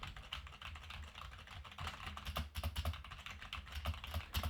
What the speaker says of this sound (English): now we're going to do a little bit of typing.